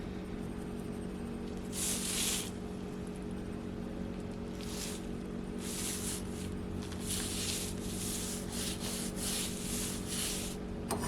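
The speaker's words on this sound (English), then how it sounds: "Rub it all in." Hands rubbing seasoning into a rack of ribs, a series of loud, close, rough rasping strokes of varying length over a steady background hum, with no voices.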